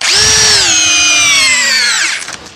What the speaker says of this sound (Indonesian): Ini saya ganti dulu ke mode drill ya. Ini mode drill yang tengah nih ya.